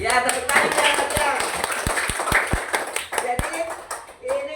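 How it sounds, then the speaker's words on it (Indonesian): Children clap their hands in a short burst of a few sharp claps amid a noisy classroom, with voices talking and chattering over and around the claps. "Ya, tepuk tangan ya."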